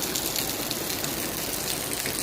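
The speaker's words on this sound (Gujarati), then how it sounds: "સાંજના ટાઈમનો વરસાદ શરૂ થઈ ગયો છે" Sudden evening rain shower in Modasa falling steadily, a dense close hiss of drops on surfaces with no voices over it.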